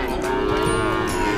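Cattle moo at the Wirosari cattle market in Purwodadi, where breeding calves are traded. One sustained, fairly close low moo holds steady over a constant background of crowd and market noise.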